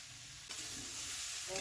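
Cauliflower and potatoes frying with Kashmiri chili powder, a soft steady sizzle that grows a little louder partway through, with faint stirring near the end.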